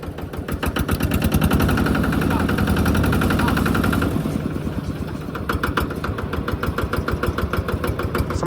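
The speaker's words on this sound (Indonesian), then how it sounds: "Untuk gasnya itu harus kenceng kayaknya ini mesin" A corn sheller machine's engine runs loud and steady, a dense mechanical rumble with rapid rhythmic pulsing that eases slightly partway through, then continues with a sharper chugging beat.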